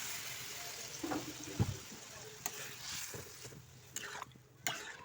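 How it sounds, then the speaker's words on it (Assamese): Leafy greens tipped into a hot cooking pan set off a steady sizzle and frying hiss, with a few soft clatters and bumps as they land and settle. "বাকী এইফালে যিখিনি শাক আছিলে সেইটো ঢালি দিওঁ"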